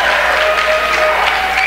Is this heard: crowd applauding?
yes